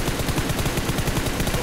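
Rapid bursts of automatic gunfire from the video game PUBG Mobile, loud and close, repeating in a quick rhythmic volley with no talk.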